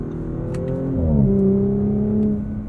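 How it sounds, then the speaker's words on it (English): A 2021 Audi S4's V6 with an eight-speed transmission revs up while driving, its tone rising through a gear change and holding steady, heard from inside the cabin with no talking. "This V6 does sound good."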